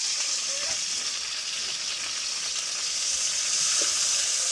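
Garlic and onion fry in hot oil, giving a steady, close sizzle that holds evenly throughout with faint clinks now and then.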